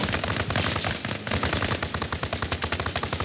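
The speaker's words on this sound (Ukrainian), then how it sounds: "Ну почекай, ще стріляю." Rapid bursts of gunfire in the video game Arma Reforger, loud and continuous, with automatic weapon rattling in quick rhythmic volleys near the listener.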